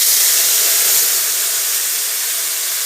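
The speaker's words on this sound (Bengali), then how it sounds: "আর এই যে আমি বেটে রেখেছি যে মশলাটা সেটা দিয়ে দিচ্ছি" Ground spice paste hits hot oil in a pan while making cabbage with peas, producing a loud, close, broad hissing sizzle that starts strong and eases slightly over a few seconds.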